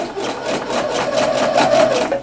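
A sewing machine stitches steadily to gather fabric, its needle ticking in a fast regular rhythm, close and clear with no talk.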